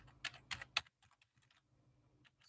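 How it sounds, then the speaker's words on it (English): Bursts of typing on a computer keyboard, a quick cluster of loud clacks followed by lighter, scattered keystrokes close to the microphone in an office setting. "Excuse the typing."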